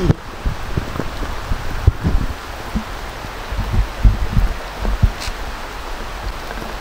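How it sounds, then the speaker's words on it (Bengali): Rain pattering onto an empty street, a continuous hiss of falling water broken by irregular nearby taps and splashes of drops hitting surfaces. "বৃষ্টিতে এই মুহূর্তে রাস্তা পুরো খালি, আর বৃষ্টিতে একটু ভেজার সুযোগ পেয়ে গেছি"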